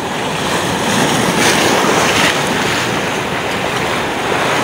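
Steady, loud sea waves and surf rushing continuously at a fishing spot, mixed with wind buffeting the microphone, with no voices.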